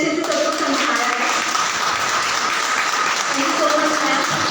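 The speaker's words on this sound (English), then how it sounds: "So give her a big round of applause." Audience applause at an academic guest lecture on higher education reforms in India, a steady dense wash of clapping lasting several seconds with some voices mixed in.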